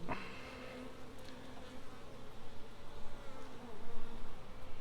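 A dense, steady hum of many honey bees buzzing close by in an opened hive, the drone swelling and fading slightly with no talking.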